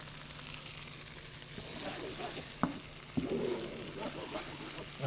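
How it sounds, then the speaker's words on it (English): Scrambled eggs with salt frying in a pan alongside onions and chili pepper, giving a soft steady sizzle with a few sharp utensil taps and scrapes. "Now we're gonna do the eggs. Just gonna make some scrambled eggs."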